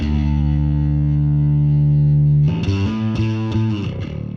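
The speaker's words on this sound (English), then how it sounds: "that really nice distortion, kind of gritty distortion that this particular effect adds" A soloed bass track is run through a gritty distortion effect plugin: one sustained, buzzy low note rings for over two seconds, then a string of shorter distorted bass notes follows in a rough rhythm, loud and up front.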